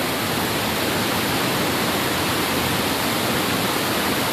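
A tiered waterfall at Ussu in East Luwu, Indonesia, roars in a steady, dense, loud rush throughout with no voices.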